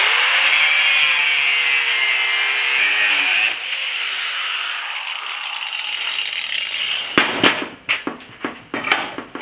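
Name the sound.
cutting off the end of a metal piece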